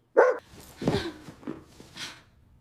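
A dog barks in several separate, close, loud bursts with brief gaps between them, the later ones softer and whimpering.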